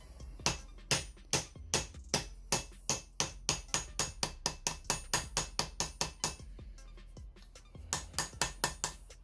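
A heavy hammer strikes a metal pipe in a long run of ringing, rhythmic blows, close and loud, briefly pausing before a final quick series of hits.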